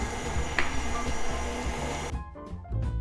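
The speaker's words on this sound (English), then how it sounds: "So we're gonna go ahead and add that into our mixer. And now mix it on low speed." A stand mixer runs on low speed through white chocolate peppermint cake batter, giving a steady close whirring hum for about two seconds before the motor cuts off, followed by faint bowl clatter.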